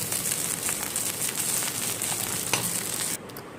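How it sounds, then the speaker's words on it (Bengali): Chicken fried rice frying and being tossed in a hot pan, a dense continuous hiss of sizzling with scraping stir strokes, cutting off sharply near the end. "নেড়ে চড়ে ফ্রাই করে নিয়ে শেষে আমি হালকা সামান্য পরিমাণ চিনি ছড়িয়ে দিয়ে একটু নেড়ে চড়ে নিয়ে"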